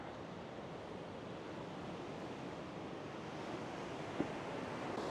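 Sea waves roll in at the seaward exit of the Vinh Moc tunnels in Vietnam under grey weather, a steady broadband wash of surf mixed with wind noise, distant and soft, with one brief thump near the end.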